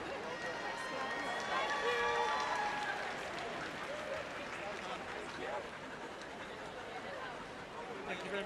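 A Crufts flyball crowd cheers and applauds through a lap of honour, a dense, sustained wash of clapping and voices filling a large arena, rising slightly then holding steady.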